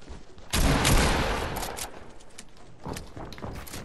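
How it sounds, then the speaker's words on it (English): Rapid gunfire from a Fortnite match: a loud burst of many shots rings out after a short quiet lead-in, then trails into scattered further reports and fainter shooting, with no talking. "Many shots."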